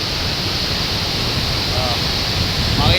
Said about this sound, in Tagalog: Yan o, yan yung baha.